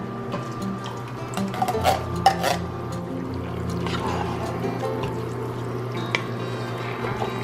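Canned navy beans and their liquid pour into a stew pot with a soft, wet glugging splash that comes in a few short surges, faint and close with a low background hum.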